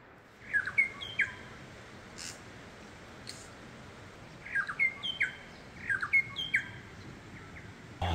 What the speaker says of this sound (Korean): 아, 진짜 여기는 새들의 천국이다.